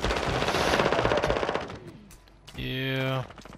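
Automatic gunfire in a first-person shooter video game, several rapid bursts up close, followed by a sustained loud buzzing tone.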